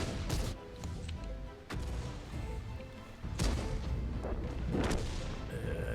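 Heavy cannon shots in World of Tanks, including a T42 tank, boom out as several separated blasts, each followed by rumble, with a continuous dense battle din underneath.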